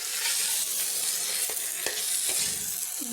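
Cauliflower pieces fry in oil in a pan, a dense continuous sizzle close up with a few sharp spatula scrapes and knocks against the pan, no talking.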